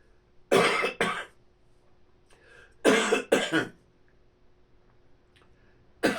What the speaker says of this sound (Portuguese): Estou com uma tosse alérgica já há mais de 2 meses